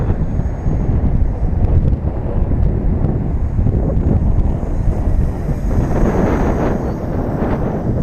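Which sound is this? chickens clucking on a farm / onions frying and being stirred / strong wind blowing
strong wind blowing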